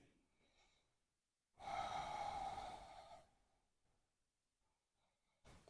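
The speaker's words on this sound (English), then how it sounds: "Continue breathing deeply." One deep, audible breath, drawn and released during chakra yoga practice. It stands alone and close in an otherwise quiet room.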